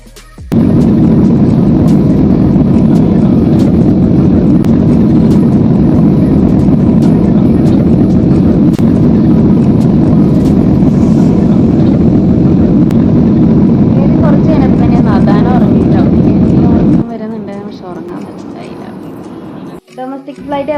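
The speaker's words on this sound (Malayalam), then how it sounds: "ഇന്റർനാഷണൽ എയർപോർട്ട് ടെർമിനൽ 1 നിന്ന് ടേക്ക് ഓഫ് ചെയ്യുന്ന വീഡിയോ ആണ് നിങ്ങൾ കാണുന്നത്" An airplane on a domestic flight taking off from an international airport's Terminal 1, heard from inside the cabin as a loud, steady engine roar that holds for about seventeen seconds and then drops away to a quieter hum.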